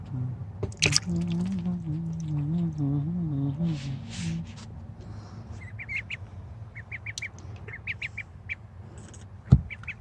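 A duck in a bath gives a run of low nasal quacks, then a few higher chirps, close up, with a splash and a sharp knock near the end.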